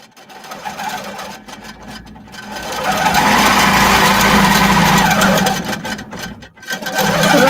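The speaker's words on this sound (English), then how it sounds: "now it'll make that locking stitch" A sewing machine running a locking stitch, loud and close: a steady mechanical whir that starts and stops in short bursts, then holds through a longer sustained run.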